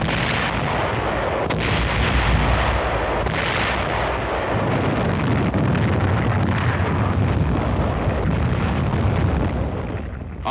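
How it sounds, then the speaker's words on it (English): A WWII artillery barrage backed by tanks pounds enemy defensive lines in southern Okinawa: continuous loud rumbling with dense, overlapping booms and blasts throughout, and no talking. "Artillery, supported by tanks, went to work on the enemy's defensive line."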